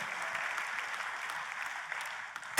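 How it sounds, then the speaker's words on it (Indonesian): A church congregation claps enthusiastically during a sermon, producing an even, sustained burst of applause from many hands. A sharp louder sound cuts in right at the end. "Kita kasih tepuk tangan dong yang paling meriah buat Tuhan kita"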